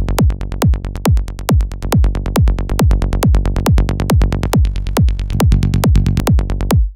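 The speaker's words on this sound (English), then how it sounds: "I'll flick through some presets and you'll hear the tone change quite drastically." Driving tech trance bassline of rapid, evenly spaced synth bass notes playing loud and alone, its tone shifting noticeably partway through as saturation plugin presets are flicked through.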